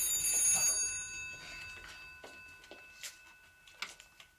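A telephone bell rings loudly at the start with a bright, brief metallic trill, then cuts off, leaving a few faint ticks and small handling noises in a quiet room.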